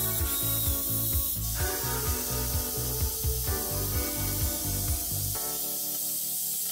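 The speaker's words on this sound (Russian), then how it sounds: "Щеткой на дрели снимаю ржавчину с поверхности." A wire brush spun by a drill scrubs rust from a small washing-machine motor housing, a loud, rapid rattling grind in steady pulses lasting several seconds, close up with no talk.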